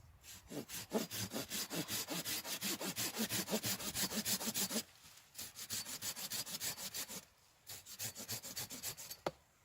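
A hand saw cutting through wood in fast, even back-and-forth strokes, close up, briefly pausing twice before resuming.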